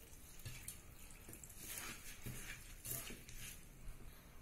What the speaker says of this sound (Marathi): आता याच्यामध्ये पाणी घालून 2-3 पाण्याने आपल्याला ते छान धुवून घ्यायचे।